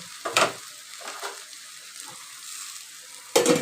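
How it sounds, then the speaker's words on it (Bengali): Dried fish sautéing in an oiled pan, a soft steady sizzle broken by a few louder bursts of stirring and scraping near the start and again at the end; no one speaks. "এই দেখো শুটকিগুলোকে দিয়ে দিলাম, এবারে একটু কষাবো"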